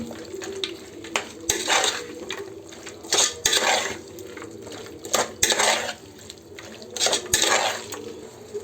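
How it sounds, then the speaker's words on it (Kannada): Soybean chunks stirred into masala in a cooking pan, a metal spoon scraping and clinking against the pan in repeated strokes about once a second, close and fairly quiet, with no talking. "ನಾವು ಸೋಯಾಬೀನನ್ನು ಸೇರಿಸ್ತಾ ಇದ್ದೀವಿ ಈ ಮಸಾಲೆಗೆ. ಹಾಕಿ ಕಲಸಿಕೊಳ್ಳಿ."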